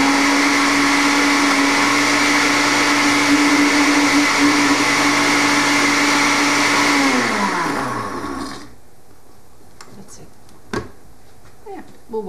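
A kitchen blender that has only one of its two blades left runs with a loud, steady motor whine. It slows and cuts off partway through, and a few clunks and quiet handling noises follow.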